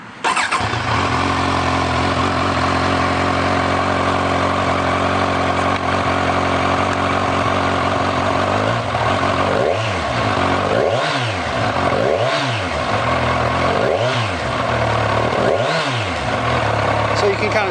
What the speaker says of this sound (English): let's push the button and we'll crank it up and take a look at that tachometer